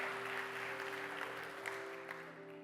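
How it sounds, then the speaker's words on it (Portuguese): A congregation at a church service applauds in a soft, even wash of clapping over steady sustained tones, heard from some distance and fairly quiet throughout. "Será que você podia dar um aplauso ao Senhor por isso?"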